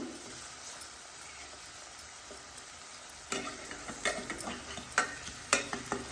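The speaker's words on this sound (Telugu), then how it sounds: "ఇలా అల్లం వెల్లుల్లి పేస్ట్ కూడా వేసుకున్న తర్వాత దోసల గంటతో తిప్పి వేస్తున్నాను" A dosa spatula stirs ginger garlic paste in a pan for fish curry, first a faint sizzle and then a run of soft, close scraping strokes against the pan.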